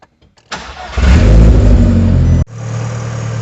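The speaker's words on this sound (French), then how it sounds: "maintenant que la voiture tourne" A car engine cranks briefly, catches with a loud roar, then drops to a steady, close idle; no voices.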